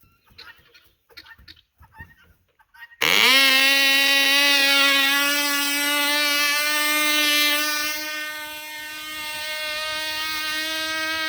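A Cox glow engine on a Peewee 30 model plane bursts into life after some faint handling noises and then runs as a loud, high-pitched steady whine to the end, easing slightly in pitch near the end.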